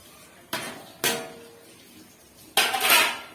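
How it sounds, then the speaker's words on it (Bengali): A metal lid lifted off a pot of cooking rice: three sharp clanks of metal on metal, close and fairly loud, the last one ringing and rattling longer than the first two. "ভাতটা আমি ঢাকাটা খুলে নেব"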